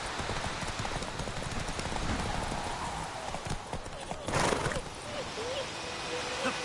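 A horse named Roach gallops in The Witcher, its hooves clip-clopping in a fast, steady rhythm close by, with a brief whinny-like cry partway through and no speech in the moment.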